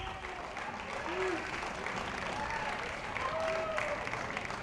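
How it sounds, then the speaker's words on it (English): Crowd at a college baseball game, Trinity vs. Merrimack, applauding a departing pitcher with a steady ovation of clapping and some cheering, dense and continuous throughout. "we'll take a listen here to the crowd as they give him a big ovation"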